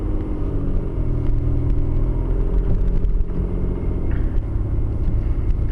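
A car pulls away from a stop during a driving test, its engine a steady, loud low rumble with road noise heard from inside the cabin throughout.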